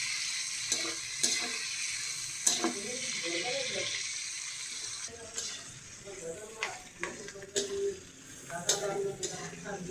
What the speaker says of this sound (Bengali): পেঁয়াজটা অল্প ভালো করে ভেজে নিব।